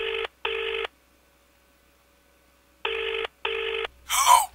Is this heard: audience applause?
no